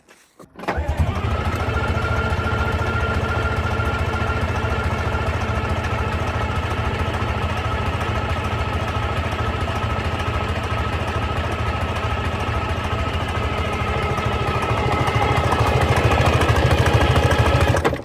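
An old Rolls-Royce engine, injectors removed, is cranked over by its starter: a loud, steady, rapid mechanical churning that runs evenly for about seventeen seconds without firing.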